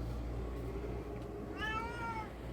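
A kitten lets out a single drawn-out, high meow over a low, constant household hum, faint and close by.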